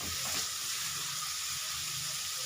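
Onions frying in a pan with turmeric and salt, a steady soft sizzle and hiss running evenly throughout, fairly quiet with no talk.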